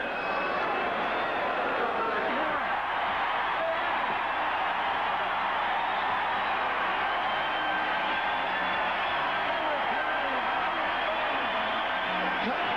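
A packed ballpark crowd at a Cardinals–Cubs game roars and cheers without a break, a dense, distant wash of voices with scattered whoops that holds for the whole stretch.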